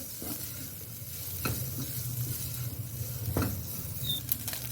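Boiled, shredded chicken fries with garlic in a pan for shawarma filling, giving a steady low sizzle with scattered stirring scrapes and taps close by, and no talking.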